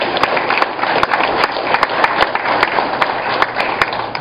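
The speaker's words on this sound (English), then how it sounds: "How about a round of applause for all of us?" Applause at a Republican candidate forum for Lake County State's Attorney in Antioch: a dense, steady clapping from an indoor audience, sustained for several seconds with scattered sharper claps.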